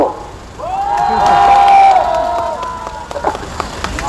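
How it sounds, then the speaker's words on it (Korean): Crowd cheering and shouting at a rally in Korea, a loud sustained whoop over scattered clapping, with sharper claps near the end. "박수!"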